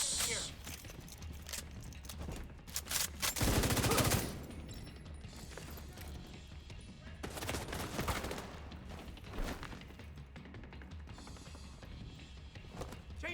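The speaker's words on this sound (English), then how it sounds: "I will show you the grenade launcher in action" Gunfire and explosive blasts in The Division 2 during combat with a grenade launcher, a loud burst of rapid shots around the middle and another heavy blast later, under faint background noise.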